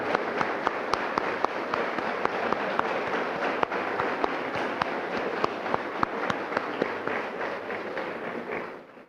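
An audience at an electric lineworker graduation applauding the veterans, a steady wash of many hands clapping with sharp individual claps on top, fading out at the end.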